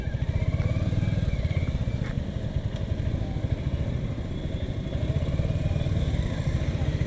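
A Royal Enfield Hunter 350 motorcycle rides along a road with a steady, thumping single-cylinder engine note and constant rumble close up, with no talking over it.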